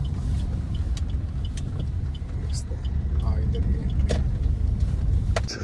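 A car rumbles at low speed while it is being parked in a parking area. The engine drone is steady and fairly loud, with occasional clicks and knocks, and voices can be heard faintly.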